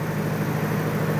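GBL30D diesel generator with an AC03 controller running steadily: a constant, close engine drone with a strong low hum, unbroken over a short stretch and no voices.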